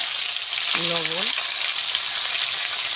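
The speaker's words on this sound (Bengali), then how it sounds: "হলুদ গুঁড়ো আস্তে আস্তে উচ্ছেটা আমি লাল লাল করে ভেজে নেব।" Bitter gourd frying in oil with salt and turmeric, a steady close sizzle throughout, with a brief tonal squeak or voice-like sound near the first second.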